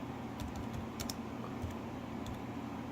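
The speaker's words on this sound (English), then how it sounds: "I would be typing with two hands, but I don't want to tip over my video, so that's why I'm using just one." Quick one-handed typing on a computer keyboard while saving files on a desktop computer, an irregular run of light plastic key clicks over a steady low room hum, close and fairly quiet, with no talking.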